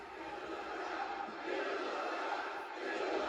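Wrestling arena crowd roaring and cheering at a women's match between Mone and Cameron, a dense, steady wash of many voices swelling slightly toward the end.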